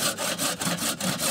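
A hand saw cuts through wood outdoors on a hiking trip, in close, rhythmic strokes, about six rasping pushes and pulls at a steady pace.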